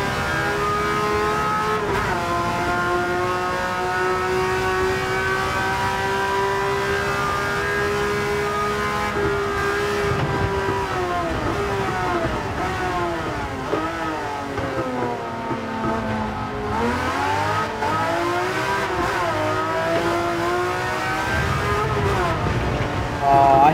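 Gran Turismo 7 car engine in a drift: loud revving that swells and dips as the driver downshifts and upshifts, with sweeping pitch changes and a brief tire squeal, under occasional talk.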